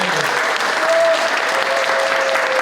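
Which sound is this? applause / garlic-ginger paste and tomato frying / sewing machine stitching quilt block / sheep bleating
applause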